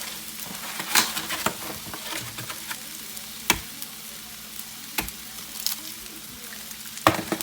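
Eggs fry in hot grease in a pan, a close, steady sizzle broken by crackles, spatters and stirring scrapes.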